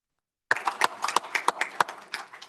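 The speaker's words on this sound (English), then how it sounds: "So one more round of applause for all of our recognitions." Audience at a school board meeting gives a brief round of applause for recognized students and athletes, a sparse cluster of distinct claps starting abruptly and continuing unevenly.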